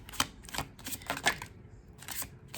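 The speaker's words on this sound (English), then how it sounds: "So now I will begin shuffling." A tarot card deck being shuffled by hand: quiet, close bursts of crisp riffling and card clicks in irregular clusters with short pauses between.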